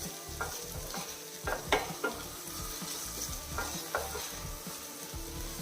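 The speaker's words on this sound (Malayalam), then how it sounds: "മീഡിയം ഫ്ലെയിമിൽ വെച്ചിട്ട് വഴറ്റിയെടുത്താൽ മതി" Finely chopped tomatoes sizzle softly in a pan over a medium flame while a spoon stirs them, leaving quiet scraping taps over a low, steady frying hiss.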